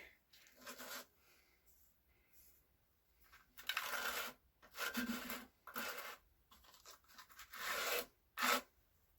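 File rasping across a freshly cut edge of a guitar part to remove burrs, several short close-up scraping strokes in irregular bursts separated by quiet gaps.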